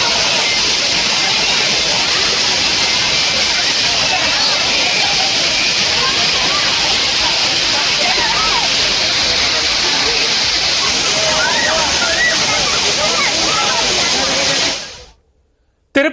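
Suruli waterfall pours in a steady, loud, dense rush of water that continues unbroken before cutting off abruptly near the end.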